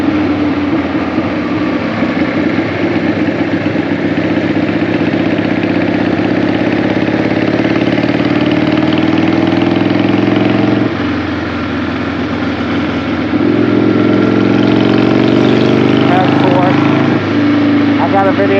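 A 2002 Harley-Davidson Sportster motorcycle runs on an evening ride down a road off a hill, its engine a steady, loud drone that dips briefly near the middle before picking back up, with some wind rush mixed in.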